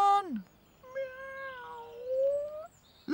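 A cartoon cat in an animated Fireman Sam episode gives several drawn-out meows, one long wavering cry between shorter calls, close and clear over a quiet background.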